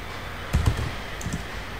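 A few quick computer keyboard keystrokes while typing a search query, two close clusters of soft taps in a quiet room.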